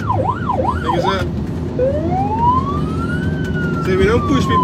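An ambulance siren wails, sweeping up and down, then shifts to a long rising tone, heard close over steady road and engine rumble while responding to a call.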